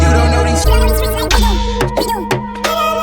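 A finished hip-hop sample, made in FL Studio, plays with booming low bass, sharp drum hits and looping melodic tones, loud and close.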